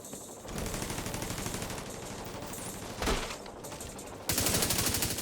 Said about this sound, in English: Go, turret, go!